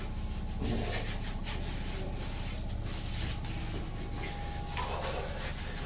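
Steady cloth rubbing and wiping against skin from a 12-inch by 12-inch Crud Cloth body wipe, a continuous close scrubbing rasp with slight swells in pressure throughout, no talking.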